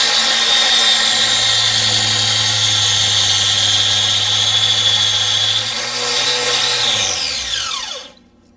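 A polishing machine with a pad whirs loudly and steadily while working compound over natural stone, a constant high whine with a low hum beneath, then winding down and spinning to a stop near the end.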